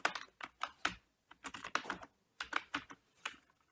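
Keys clatter on a computer keyboard as a file name is typed, in quick irregular bursts of taps with brief gaps, close and fairly soft.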